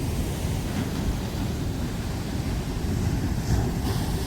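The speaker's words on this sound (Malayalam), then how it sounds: "ഈ ഭാഗത്തെല്ലാം വളരെ വലിയ തിരമാലകളാണ് അടിക്കുന്നത്" Large waves crash at Vizhinjam port in Trivandrum under light rain, a continuous broad roar of surf mixed with gusty wind buffeting, loud and unbroken with no voices.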